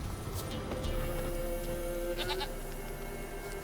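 A goat bleats in The Witcher 3, a wavering, drawn-out cry rising over a dense bed of game ambience and background noise, with no one talking.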